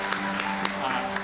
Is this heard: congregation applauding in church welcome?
yes